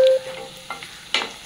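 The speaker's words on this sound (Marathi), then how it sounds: "त्याला छान असं हलवून घ्यायचं आणि कांदा हा लालसर फ्राय होऊन झाला पाहिजे" Chopped onion and curry leaves frying in a pan for a Maharashtrian pitla, with a short sizzle and a few scraping stirs in quick bursts, close and moderately loud.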